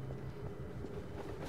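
Train rolling past in a Gmod horror map, a continuous low rumbling clatter at steady loudness with no voices.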